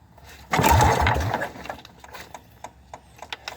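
A four wheeler's two-cylinder engine is pull-started and fails to catch: one loud mechanical whirring rattle of the recoil pull lasting about a second, then faint ticks and clicks as it winds down, with no voices.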